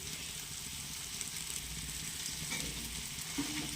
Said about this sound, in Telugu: మొత్తం కలిసే వరకు ఒకసారి తిప్పుకుందాం.